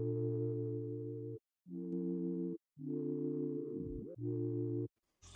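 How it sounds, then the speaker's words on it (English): A smooth sine-like synth pad plays sustained chords in place of a piano part within a music sample, broken by short silences and a brief pitch-bending swoop, fairly quiet and with no voices. "I take the keys out and I replace it with this sign pad."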